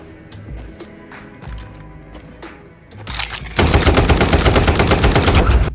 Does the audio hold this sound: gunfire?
yes